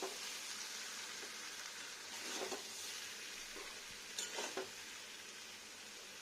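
Spices for an egg curry sizzle steadily in a pan, with a few louder scraping bursts where they are stirred; no one speaks.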